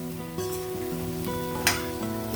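Spices tempering in hot oil for a pumpkin curry, a moderate sizzle with a brief louder burst partway through, over a faint steady tonal hum.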